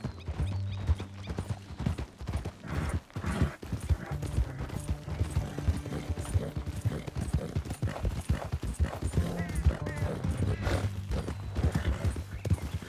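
Horse hooves clip-clopping in the video game Red Dead Redemption 2, a steady brisk trot under game music with occasional snorts, continuous and fairly close.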